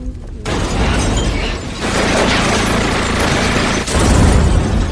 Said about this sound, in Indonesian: mereka kembali dan menembaki mobil hingga meledak